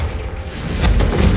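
A Confringo fire spell bursts in Hogwarts Legacy, a loud, close, fiery explosion with a deep rumbling boom that swells toward the end of a brief moment.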